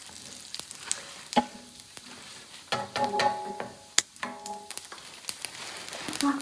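Cumin and mustard seeds fry in hot oil for a cucumber sambar, crackling and popping in sharp irregular bursts over a faint sizzle, close by with a few scraping stirs.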